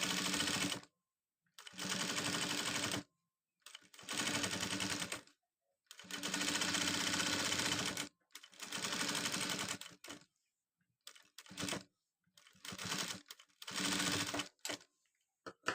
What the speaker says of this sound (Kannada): ಸ್ವಲ್ಪ ಎಡ್ಜಿಗೆನ ಸ್ಟಿಚ್ ಮಾಡ್ಕೊಳ್ಳಿ.